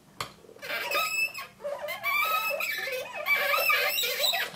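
Shrill, wavering squeaks and creaks from a glue tape roller repeat in rapid bursts, close and fairly loud, like a sticky dispenser grinding as it rolls.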